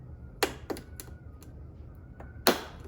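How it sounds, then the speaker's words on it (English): Sharp, isolated clicks from a pin tool pushing terminal pins out of a wiring connector during a JL Designs fender eliminator install on a 2024 25th Anniversary Gen 3 Suzuki Hayabusa, about five close taps spaced irregularly over quiet background. "you just give it a little push and you'll hear it click"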